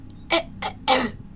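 A man clears his throat in short bursts, three rough, breathy rasps close to the listener against a quiet room, with no speech.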